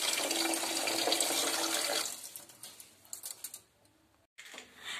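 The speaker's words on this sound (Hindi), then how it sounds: "और उसमें उतना ही पानी डाल देना जितनी आपने चीनी डालनी है" Water being poured into sugar in a pan to make syrup for gulab jamun, a steady splashing stream that thins out into scattered drips and trickles before a brief pause.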